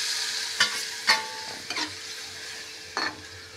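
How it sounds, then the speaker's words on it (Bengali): Water poured into a pan where fish has been frying with dried red chilli and panch phoron for a Bengali tok dish, a close sizzling hiss broken by several sharp bursts of spatter and scraping stirs, with no voices. "এবার কী করবো, এই যে জল দিয়ে দিচ্ছি"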